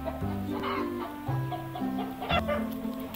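A hen clucks in a steady run of short, close calls over a soft farmyard background, with no voices in between.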